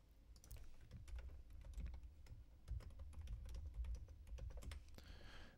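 Commands being typed on a computer keyboard at a Linux terminal, a steady run of close, crisp key clicks with small pauses and a few louder strokes, no talking.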